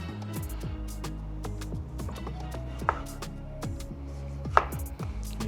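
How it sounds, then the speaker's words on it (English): Knife chopping tomatoes finely on a cutting board while cooking a Mozambican meal, a steady run of sharp, close taps with a few louder knocks, no talking. "then after this, we do the tomatoes. Same process, try and cut it as small as possible."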